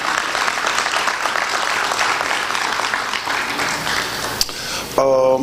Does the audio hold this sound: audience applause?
yes